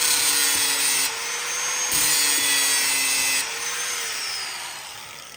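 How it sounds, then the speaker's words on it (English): A power drill bores a hole through bare steel while a car audio system is being installed, a steady high whine with a low rumble, pausing and restarting in several bursts, close and loud. "Take that bare steel and drill a hole through it for a nut and a bolt"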